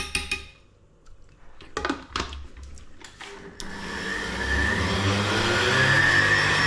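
A blender works on a strawberry protein shake, starting with a few short irregular pulses and knocks, then running as a loud, steady close whir to the end.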